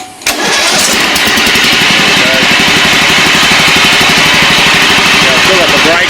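Greenfield ride-on mower engine cranks briefly, catches and settles into a loud, steady running drone close by, with a faint voice in the background.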